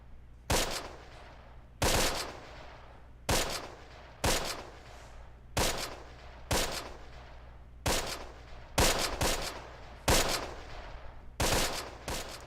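About ten sharp gunshot bursts crack at a steady pace, roughly one every second or so, in the Close Combat wargame's foggy battlefield. Each ends in a short decaying tail, fairly distant and moderately loud over a low background hum.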